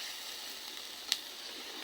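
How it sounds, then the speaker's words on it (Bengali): Spices fry in a pan with stirring, giving a soft continuous sizzle close by and one brief sharp click midway. "এখন ভাজতে হবে নাড়াচাড়া দিয়ে।"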